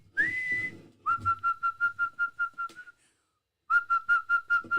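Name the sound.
person whistling imitating bird sounds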